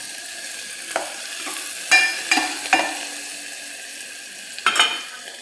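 Raw mango pieces stirred in a frying pan with a vegetable curry, a constant sizzle broken by several spoon scrapes and knocks on the pan, close and clear with no talking.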